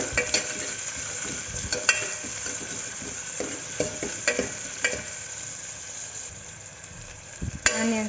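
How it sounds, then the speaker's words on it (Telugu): Onions fry for a mixed vegetable curry with a soft, steady sizzle in the pan, under intermittent scraping knocks from a stirring spoon, heard close with no speech. "ఇప్పుడు ఆనియన్స్ వేసుకుందాం ఆనియన్స్ వేసుకొని ఇవి బాగా ఫ్రై అవ్వాలి"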